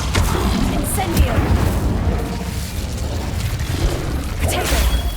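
Incendio fire spell in the Hogwarts Legacy video game, a loud whooshing burst of flame with booming rumble that swells, fades and surges again over several seconds.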